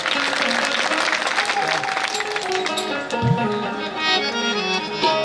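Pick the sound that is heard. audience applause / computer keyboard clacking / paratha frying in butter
audience applause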